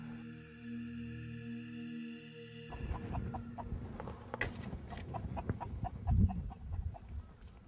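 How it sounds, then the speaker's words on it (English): Chickens clucking and a rooster calling on a farm, mixed with steady background hum and scattered short noises, moderately close and fairly loud throughout. "The chicken."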